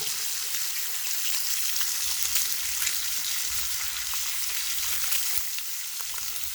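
Bacon frying in a pan with a splash of cream, a steady close sizzle and crackle that carries on without a break and with no talking.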